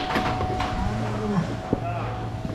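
Dairy cows moo in a robotic dairy barn, a couple of low drawn-out calls over constant machinery hum, with brief clanks and faint talk in the background.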